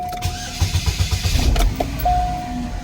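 A Chevrolet Cobalt's engine cranks with a rapid churning starter sound, fires, and settles into a medium idle, close and fairly loud, with a few clicks and a tone along the way.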